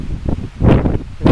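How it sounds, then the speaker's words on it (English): Gusts of strong wind on a tree-covered stretch of the Mt. Baldy trail surge in loud, rustling bursts, rising and falling three times in quick succession. "really windy"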